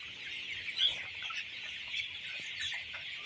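Coloured broiler chickens on a poultry farm cluck in a dense, steady chorus, a crowded flock at moderate distance with one brief louder call standing out near the start.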